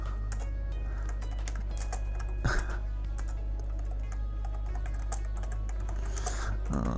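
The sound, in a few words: typing on a computer keyboard while chatting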